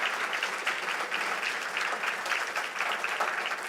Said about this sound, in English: give him a round of applause for his time tonight